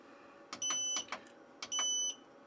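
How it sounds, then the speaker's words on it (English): Two sharp electronic alarm beeps from an off-grid solar charge controller for 24-volt LiTime lithium batteries, each a shrill sustained tone lasting about half a second, separated by a short gap over quiet background. "So to disable the annoying beeping noise, you just hold the down button and the enter button."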